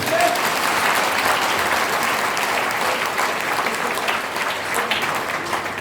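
A crowd at an RCM business function claps steadily and loudly throughout, a thick continuous wash of applause with no pauses.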